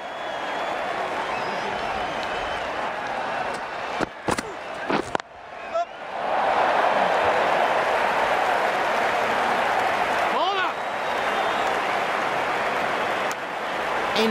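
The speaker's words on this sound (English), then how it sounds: "It's going to be hard for the bowler to focus with the crowd this excited." Excited cricket crowd in the Cricket 19 video game during a Pakistan vs Sri Lanka match, a loud steady roar of cheering and applause with brief dips and a few sharp transients, under game commentary.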